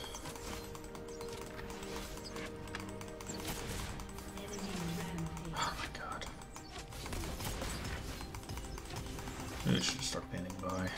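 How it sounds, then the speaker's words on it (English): Keys clatter on a computer keyboard across the whole stretch, an uneven run of taps mixed with other background noise, while a voice talks over it in places. "Stop typing and focus."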